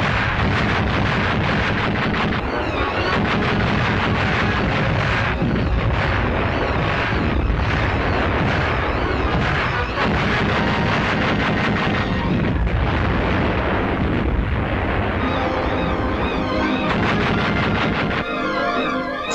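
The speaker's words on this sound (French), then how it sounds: "Les mitrailleuses contre avions sont doublées par les canons Beaufort à cadence rapide qui nettoient le ciel" Rapid-fire Bofors anti-aircraft guns and machine guns in the Tunisian campaign of the Second World War blast in dense, continuous bursts with heavy booms, loud and close throughout, with no voices.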